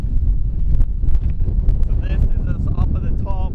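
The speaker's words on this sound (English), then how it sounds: "It is super, super windy" Strong wind buffets the microphone on an exposed mountain top in South Africa, a loud steady rumble roaring throughout while someone talks over it.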